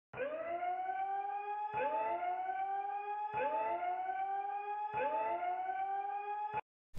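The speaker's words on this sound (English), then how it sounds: "And this alarm." An alarm sound effect in an electronic dance track made in FL Studio: four identical rising siren-like wails repeat in an even rhythm, loud and alone, then stop abruptly.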